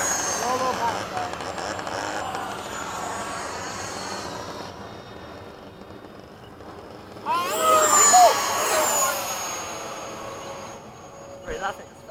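F-5 and Hawk jets make a low formation pass. A faint engine hum swells into a loud, sweeping roar as they fly by, then fades away, while people talk over it.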